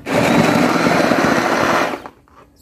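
A kitchen blender whirs loudly and steadily for about two seconds, blending vegetables such as squash, carrots, beans and eggplant, then cuts off abruptly and leaves near silence.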